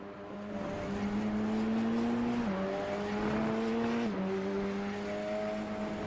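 A Radical SR race car driven at the Oschersleben circuit, its high engine note holding steady with brief dips at gear changes, a continuous loud drone without speech.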